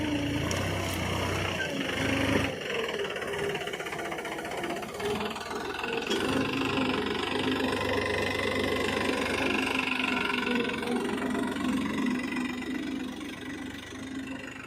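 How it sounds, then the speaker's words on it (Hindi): A New Holland 3600-2 tractor hauling a seed drill out of mud during wheat sowing in Madhya Pradesh drones steadily nearby, its engine rumbling continuously at a constant pace throughout. "ये ट्रैक्टर कीचड़ में से सीड ड्रिल लेके आ गया।"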